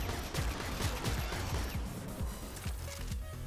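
Rapid weapon fire from Vauban in the game Warframe, a run of punchy low thumps in a quick irregular rhythm over a noisy wash of combat effects, moderately loud and sustained.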